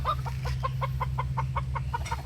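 Chickens cluck in a quick rhythmic series of short calls, close by, over a low steady background hum in a poultry yard.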